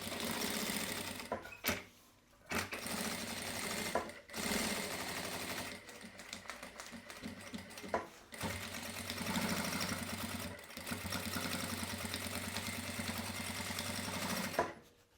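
Sewing machine stitching around the lining of a fabric panel, running in steady continuous bursts with short pauses, close and fairly loud.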